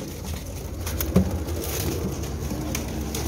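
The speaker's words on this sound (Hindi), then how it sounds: "बड़ा कमाल का कबूतर है" Pigeons coo softly in a loft of fancy breed birds, with a brief louder coo near the middle over a steady background of rustling and ambient noise.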